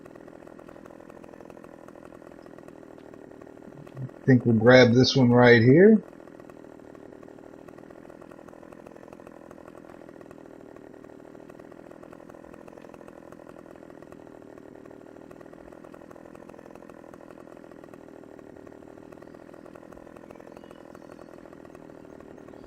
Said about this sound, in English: Get my little chainsaw out.